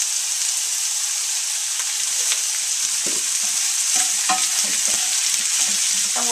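Vegetables and red peppers saute in a hot pan with salt, giving a loud, dense, continuous sizzle, with faint scrapes and stirring clicks rising through the second half.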